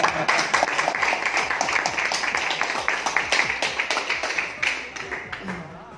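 An audience at a Sahara India Parivar meeting applauds a local panchayat official: dense, fairly loud clapping that runs steadily for about six seconds with no break.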